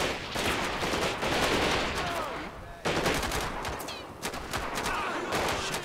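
Gunfire in a GTA 5 zombie mod raid: dense, rapid bursts of automatic shots crackle close and loud, with a short break before the volleys resume.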